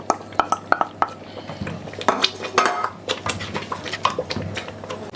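Metal spoon clattering and scraping in a pot while seasoning is stirred into meat stock for Nigerian party jollof rice, a quick run of sharp clinks and knocks up close with no talking.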